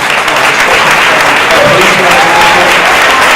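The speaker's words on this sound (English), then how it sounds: "Big round of applause for our panel" A panel at a public forum on the Los Angeles Olympic bid gets a round of applause from the audience, with steady, dense clapping that fills the room and lasts throughout.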